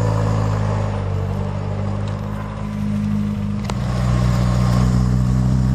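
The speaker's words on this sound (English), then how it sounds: "That tickover could go down a tad." An MG Midget sports car engine idling at tickover, a steady low mechanical hum that holds even throughout with only slight swells in level.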